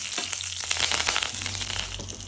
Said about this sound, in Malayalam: അല്പം വെളിച്ചെണ്ണ ഒഴിച്ച് കടുക് പൊട്ടിച്ച് വറ്റൽമുളകും കറിവേപ്പിലയും ഇട്ട് നന്നായിട്ടൊന്ന്